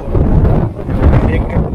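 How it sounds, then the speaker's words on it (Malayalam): Gusty wind buffets the microphone on a mountain trek at Ramakkalmedu, Kerala, a loud low rumble that surges and dips over under two seconds. "ഒരു രക്ഷയില്ലാത്ത കാറ്റ്"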